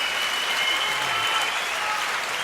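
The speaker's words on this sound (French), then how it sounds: "applaudissements pour Patrick Timsit" A studio audience applauds for Patrick Timsit on a television show, a dense, steady wash of many hands clapping at once that holds at a loud level throughout, with no talk over it.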